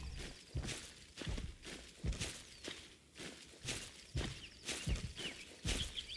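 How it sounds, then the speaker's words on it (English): Character footsteps in the Hold Your Own survival video game, steady walking steps crunching at an even pace, moderately loud against a soft ambient background. "So you can hear the footsteps"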